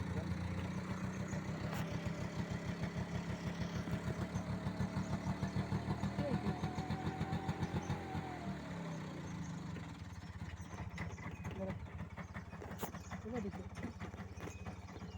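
A vehicle engine idles with a steady, throbbing low rumble throughout, fairly faint, with light background noise.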